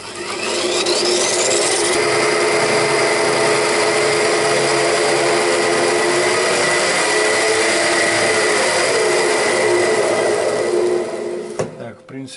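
Homemade bench grinder and belt grinder spinning up on its first start, a loud continuous close motor whir with a steady hum that runs nearly the whole time before winding down at the end.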